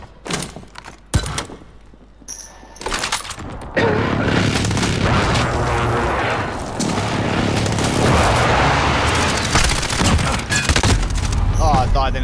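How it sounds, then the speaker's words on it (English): Precision airstrike explosions in a first-person shooter free-for-all match: a few sharp isolated blasts, then a long, loud, continuous barrage of booming impacts and rumbling debris that fills the rest of the moment. "Enemy precision airstrike."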